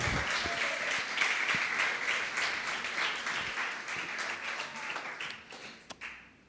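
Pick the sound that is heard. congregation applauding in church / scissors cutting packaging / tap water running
congregation applauding in church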